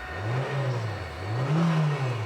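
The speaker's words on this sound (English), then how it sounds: "Revs up nicely, idles smoothly." A 2009 Nissan Cube 1.8 engine revs twice, rising and falling in two smooth swells over a steady idle.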